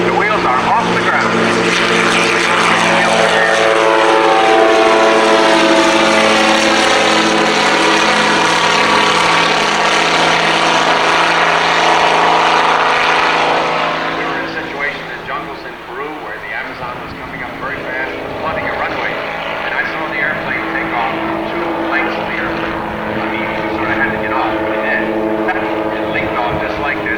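A Helio Courier propeller plane takes off, its engine roaring loud and close at full power with a steady buzzing drone, then dropping away as it climbs while someone talks over it.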